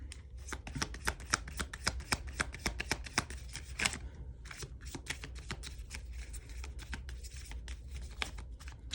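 Tarot cards are shuffled in steady, rapid riffles and flicks, a continuous papery rustle with crisp clicks close to the mic, no talking over it.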